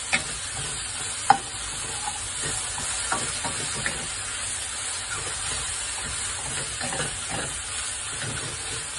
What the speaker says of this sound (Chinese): 咁我哋赞一赞酒啦，大约係半茶匙嘅酒